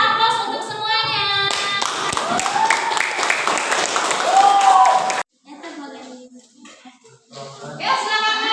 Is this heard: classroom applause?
yes